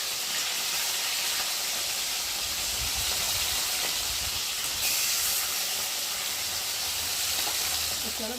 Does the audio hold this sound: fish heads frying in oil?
yes